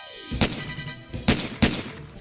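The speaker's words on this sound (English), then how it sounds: "Then they heard gunshots." Three sharp, loud bangs ring out at uneven intervals, each with a short echoing tail, against a quiet background.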